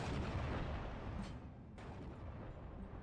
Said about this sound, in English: He's using some regular artillery right now, it seems, to try and pound away those 76mm mountain howitzers.